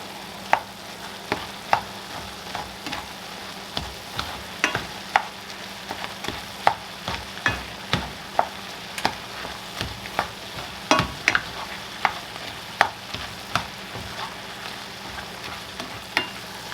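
Hamburger meat and bacon browning in a pan for chili, a constant close sizzle broken by frequent sharp scrapes and clacks of stirring in an irregular rhythm, with no talking.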